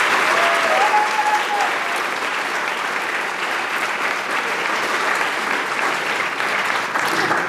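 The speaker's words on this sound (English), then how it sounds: "Let's please have a round of applause for all of the U.S. Army veterans here today." Sustained applause from a large audience of students and guests at a high school Veterans Day assembly, honoring U.S. Army veterans; loud, dense clapping that holds steady for the whole stretch with no talk over it.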